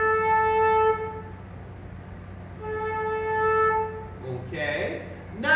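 A flute plays two long sustained held notes separated by a pause in a slow whole and half note rhythm, fairly quiet, with a voice starting to talk at the end.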